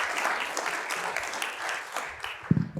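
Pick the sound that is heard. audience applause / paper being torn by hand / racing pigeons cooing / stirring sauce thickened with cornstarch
audience applause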